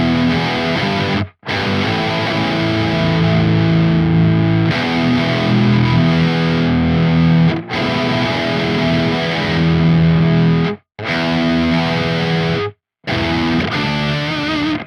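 Heavily distorted electric guitar runs through the Neural DSP Archetype Gojira with a double-octave-down pedal, giving a thick, low, saturated tone. Loud riff phrases are separated by abrupt short silences, and nobody speaks.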